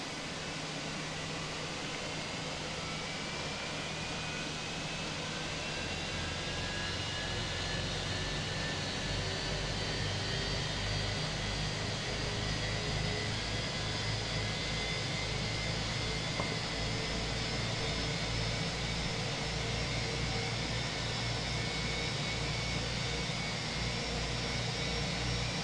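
Steady, loud whine and roar of engine number 2 on a Fenix A321 starting up in a flight simulator, a continuous broadband hum with slowly rising tones throughout; no talking.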